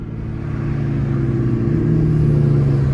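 Chevrolet Corvette Z06 with added horsepower and turbos, its engine rumbling steadily and close, the deep tone swelling gently louder and a little higher as it builds toward the end, with no voices.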